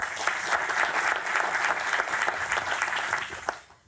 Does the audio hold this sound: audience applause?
yes